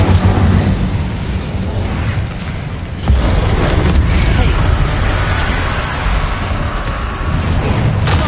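Confringo blasting spell explosions in Hogwarts Legacy, a video game: repeated loud booms and bursts over a dense, continuous battle din, with a voice calling out in the background.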